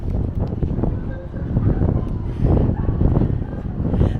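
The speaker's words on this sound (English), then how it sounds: "it's kind of windy. I don't know if you can hear the wind." Wind buffets a microphone on deck 10 of the Disney Wonder cruise ship in gusty, low rumbling surges, rising and falling irregularly, with a faint mechanical hum in the background.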